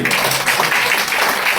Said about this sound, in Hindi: जोरदार ताली सरदार के लिए।